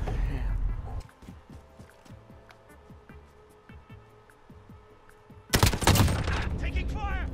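Gunfire in the Call of Duty Modern Warfare video game: a loud burst at the start, a stretch of rapid footsteps, then a second heavy burst of shots, with game voices over the action.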